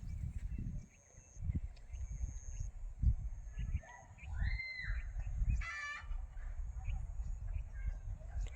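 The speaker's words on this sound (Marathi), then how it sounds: "पोरं कोंबड्यांच्या मागे लागलेत कोंबडी घरात गेली वाटतं" Chickens cluck and squawk briefly in the middle, set against a noisy outdoor background with low rumbling.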